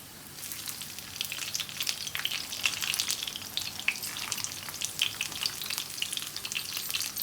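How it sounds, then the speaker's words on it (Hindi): Bitter gourds stuffed with minced meat fry in hot oil, crackling and popping busily and unevenly throughout, close and fairly loud. "नॉर्मल गरम ऑयल में हमने इन्हें फ्राई करना है।"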